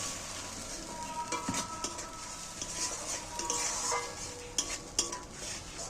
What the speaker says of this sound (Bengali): সব পেস্টটা আমি এর মধ্যে দিয়ে দিই এইবার আমি ভালো করে এটাকে কষিয়ে নেব